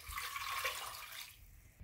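Water pours steadily from a tap into a small cooking pot holding chicken pieces, a bright continuous rush that fills the first second and then tapers off, with no talk over it.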